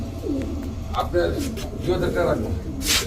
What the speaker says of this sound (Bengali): এই যে দর্শক দেখেন আর্চেঞ্জেল ডাকাডাকি করতেছে